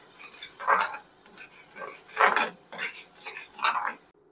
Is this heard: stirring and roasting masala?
yes